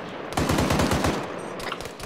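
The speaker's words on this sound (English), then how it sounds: "Contact machine gun northeast." Machine gun fire in the military shooter game ARMA 3: a loud rapid burst of about a dozen shots in quick rhythm, then a couple of trailing shots, with no talk over it.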